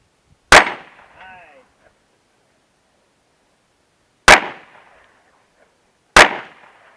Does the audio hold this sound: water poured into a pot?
no